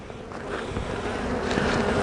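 A dense, steady buzzing of many honeybees at an opened hive during a spring inspection fills the clip, close and continuous, with no voices.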